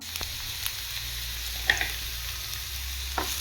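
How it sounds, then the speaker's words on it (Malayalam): Crushed onion and garlic stirred in hot oil in a pan for a Kerala capsicum mezhukkuvaratti, a steady close sizzle broken by a few sharp spoon clinks and scrapes, no talking. "ഫസ്റ്റ് തന്നെ ഇടുന്നത് ഉള്ളിയും വെളുത്തുള്ളിയും കൂടെ ചതച്ച് വെച്ച ഇതാണ് ഇടുന്നത് എന്നിട്ട് അതൊന്ന് ഇളക്കി കൊടുക്കുക"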